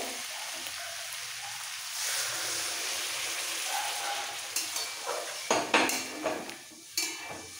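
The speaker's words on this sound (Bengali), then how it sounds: "এবার দিয়ে দিচ্ছি গরম জল, একদম অল্প করেই দেবো।" Hot water is poured into a pot of sautéed sukto vegetables, including potato and papaya, giving a steady hiss and sizzle that is followed by several sharp metallic clinks and knocks near the end.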